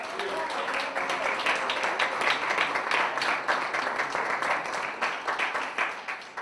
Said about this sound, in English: let's give Larry a round of applause, please